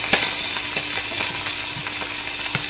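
Pancake batter sizzles in a hot buttered pan, a loud, steady close-up hiss with a few sharp ticks and light clicks scattered through it.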